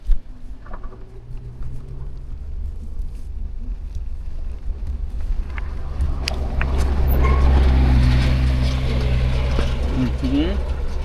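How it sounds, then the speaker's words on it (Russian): A car comes up behind a cyclist on a long-distance ride between Yakutsk and Magadan and overtakes. A low engine rumble swells to a peak late in the clip under heavy wind noise on the microphone. "Он меня догоняет, машинка."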